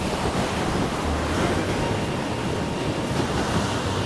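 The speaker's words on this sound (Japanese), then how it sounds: "ほんと波が激しいな。" Rough surf pounding a rocky coastline near Nemuro in Hokkaido: a continuous loud wash of crashing waves with gusty wind buffeting the microphone, steady throughout and with no talk.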